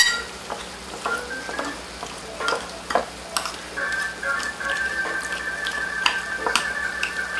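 Brown sugar and vanilla being stirred into cream cheese in a bowl for a no-bake caramel apple cheesecake, giving close, steady scraping and soft clicking strokes with no talking.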